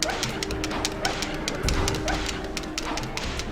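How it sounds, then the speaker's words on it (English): Dogs from the video game Castlevania 64 bark and yip repeatedly in quick, rhythmic bursts, loud and close, set against a constant game backdrop. "you want to kill that dog as fast as possible"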